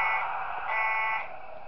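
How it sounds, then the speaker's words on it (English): A steady electronic alarm tone sounds in the Five Nights at Wario's video game, a continuous buzzing drone that holds for under two seconds, modest in level rather than piercing, and fades slightly at the end. "I thought that alarm would actually be loud, like a fire alarm, but it's actually not."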